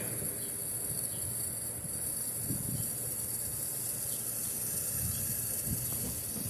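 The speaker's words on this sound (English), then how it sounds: "just getting in here and watering everything" A steady wash of running water sprays down, with a constant high insect-like hiss above and faint low splashes.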